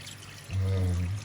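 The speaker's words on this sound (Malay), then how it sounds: "Kita tambah lagi dia punya air." Water pours into a pan of stingray being stir-fried with pineapple, starting halfway through as a close, steady, low rushing gush that runs to the end.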